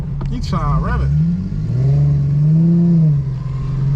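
A car engine, with an Infiniti G37 and Camaro RS present, revs up in a couple of rising, falling sweeps, loud and close, with a person talking briefly in the middle.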